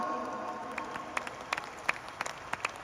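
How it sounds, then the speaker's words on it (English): Faint applause spreads through a crowd, scattered sharp claps standing out over a soft wash of noise. "Can we all give our topmost leaders a round of applause today?"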